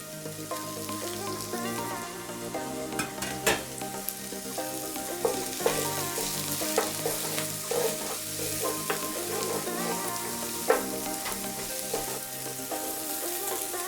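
Spring onion bottoms sizzle and fry in a pan for chicken egg fried rice, a steady crackle broken by occasional stirring clinks, heard close with no talk.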